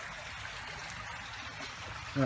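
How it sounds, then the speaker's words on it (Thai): Water splashes and trickles steadily from an artificial waterfall in a home garden, a continuous close rushing wash with a brief low voice near the end. "ทอน้ำตกก็มีน้ำตกใหญ่แล้วก็น้ำตกเล็กนะครับ"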